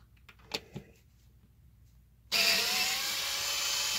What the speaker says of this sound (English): Let's see if the Genesis could do the job